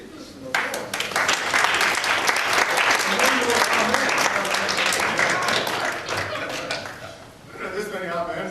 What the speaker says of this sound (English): Yes, let's give this an applause.